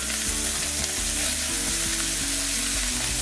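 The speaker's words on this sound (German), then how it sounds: "Und jetzt nehme ich mein Röstgemüse und gebe das in den Topf rein." Root vegetables for a braised venison leg hit a hot pot and fry with a dense, loud, unbroken sizzle, plus a few soft knocks, with no talking.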